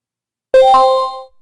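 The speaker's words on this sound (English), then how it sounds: "You heard the push notification." A MetaTrader price-alert push notification rings once as a loud, clear electronic chime with a bright two-tone onset that rings on briefly and fades, alone in silence.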